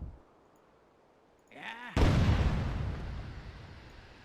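A cannon booms in the fantasy strategy game Myth II: Soulblighter, one sudden loud blast with a long rumbling decay, preceded by a brief whooshing tone after near silence.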